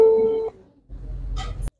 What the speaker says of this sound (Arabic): التليفون ديالو كيصوني